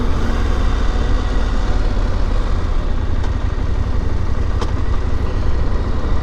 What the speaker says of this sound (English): Nice clunky gearbox.